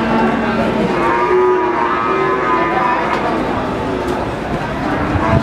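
Beef cattle, including Limousin, low at a busy livestock market in Wirosari. Long, loud, close moos rise and fall over noisy background chatter, with people talking nearby.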